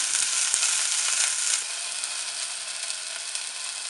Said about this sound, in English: Add the garlic and fresh chilies. Then stir fry for a few seconds.